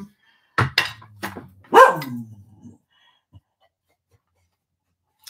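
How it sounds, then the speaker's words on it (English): A dog barks indoors near dinner time, giving a handful of loud, close barks in a quick irregular burst before falling quiet. "it's getting close to dinner time. AKA time to bark."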